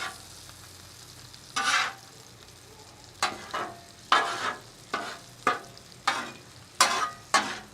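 Sausage, peppers, onions and cheese sizzle on a flat top grill while a spatula scrapes and mixes them, giving eight or so sharp stirring bursts over a steady close hiss with no talking.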